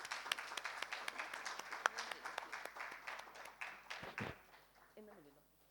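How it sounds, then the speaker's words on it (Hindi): An audience at a Mumbai Digital Printers Association event claps for a speaker, scattered distinct hand claps forming moderate applause that thins out, followed by a brief voice near the end. "एवरीवन जोरदार तालियां हो जाए कम ऑन सर के लिए।"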